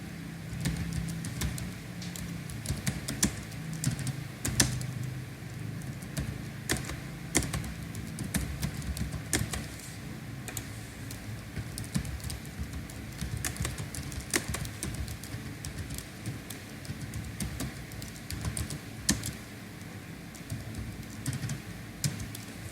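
Steady typing on a computer keyboard, a continuous patter of soft key clicks close by, running throughout with no talk over it.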